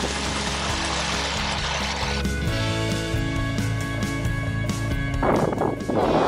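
Cold water from a mountain spring pours and trickles continuously nearby, with a brighter splashing burst toward the end and no speech.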